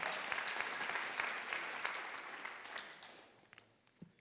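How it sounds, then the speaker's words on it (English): An audience claps at a keynote discussion on California's housing crisis with legislative leaders. The steady, fairly soft applause fades out over about four seconds. "give her a round of applause"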